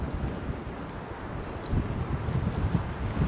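Blustery southwesterly wind buffets the microphone in a steady low roar, rising in stronger gusts toward the end, with no talking.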